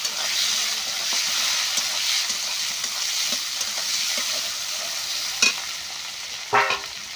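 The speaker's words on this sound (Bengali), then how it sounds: "এবার দিয়ে দিচ্ছি এই যে কেটে রাখা টমেটো কুচি।" Chopped tomatoes going into fried onions for an egg curry, a continuous dense sizzle with soft stirring scrapes and two louder clatters near the end, close and steady, no talk.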